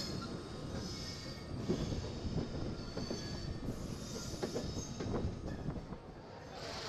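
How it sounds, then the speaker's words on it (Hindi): A train rolls into platform 4 at Muzaffarpur station, a steady rumble of wheels on rail with faint high squeals and clatter, moderately distant and continuous. "हमारी ट्रेन आ चुकी है मुजफ्फरपुर के 4 नंबर प्लेटफॉर्म पे"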